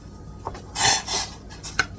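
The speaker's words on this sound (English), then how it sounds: "So I'm going to add my 1 cup of rice." Dry rice poured into a pot of boiling water in a home kitchen, a brief clattering rush of grains against metal lasting about a second, followed by a few lighter clinks, fairly close and moderately loud with no talking.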